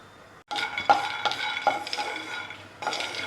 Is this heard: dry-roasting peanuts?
yes